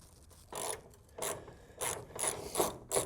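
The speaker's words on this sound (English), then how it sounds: "we're gonna go ahead and put our 10mm socket on the mounting points and get this hood lifted off" A 10mm socket ratchet undoes the hood mounting bolts on a BMW E36, giving several short bursts of rapid clicking pawl ratcheting, close and clear with brief pauses between strokes.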